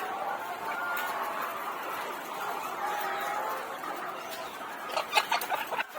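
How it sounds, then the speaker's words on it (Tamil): Several chickens cluck and squawk continuously nearby while fighting, with sharper agitated bursts toward the end as they scuffle. "கோழி கம்முனே இருக்க மாட்டேங்குதுங்க, சண்டை போடுது"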